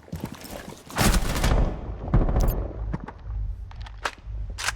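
Gunfire in the Rainbow Six Siege video game: a loud burst of shots around the first second, then further sharp reports and scattered bangs through the rest of the clip.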